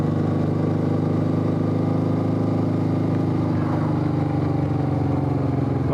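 A motorcycle engine droning steadily while riding along a country road, loud and close with a constant hum and slight shifts in pitch toward the end, no voices over it.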